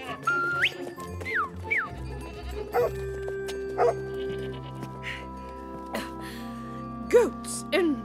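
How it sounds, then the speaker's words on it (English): Goats bleat repeatedly in wavering cries, fairly close, while a dog barks and music plays underneath. "Goats in the house."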